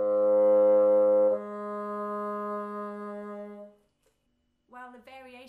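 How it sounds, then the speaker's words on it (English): A modern bassoon plays two sustained low notes in succession, the second held longer, followed by a short pause and then a brief voice at the end. "On the modern bassoon, those same notes would sound like this"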